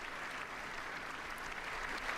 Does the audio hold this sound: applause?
yes